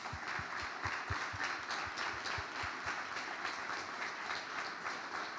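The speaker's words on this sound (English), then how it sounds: "Just a round of applause." An audience at a church service stands and applauds veterans in thanks for their service. Steady, dense clapping fills the room for the whole stretch without a break, with a few louder thumps near the start.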